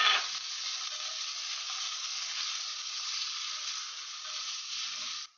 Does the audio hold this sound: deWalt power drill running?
no